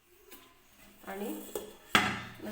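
A knife cuts sheets of khari pastry dough into pieces, first in vertical strips and then crosswise. A few sharp, close taps land on the board between soft scraping and rustling, and the last stroke is the loudest.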